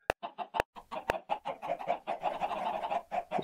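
Minecraft chickens cluck in quick, close, repeated bursts, mixed with a few sharp clicks.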